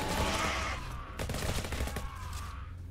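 Rapid submachine gun bursts from a video game, loud and dense, with shots firing almost continuously for about three seconds and only a brief dip in the middle.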